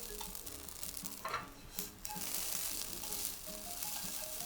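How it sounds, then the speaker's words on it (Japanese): Yakisoba noodles stir-frying over medium heat in a frying pan, a steady broad sizzle with occasional scraping and tossing bursts, close and continuous throughout. "中火でこの焼きそば麺を3分ほど炒めていきます"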